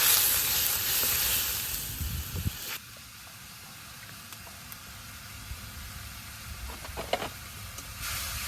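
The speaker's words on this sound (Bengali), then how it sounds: "মশলাটা ভালো করে কষে নিই" A spice paste of ginger-cumin, turmeric, chili and coriander powder sizzles hard as it fries, then settles to a quieter hiss broken by a few stirring clinks.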